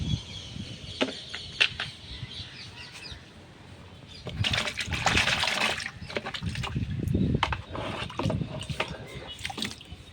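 Water poured through a sieve beside lotus tubers being planted, a splashy trickling stream that swells in the second half after lighter taps and rustles at the start.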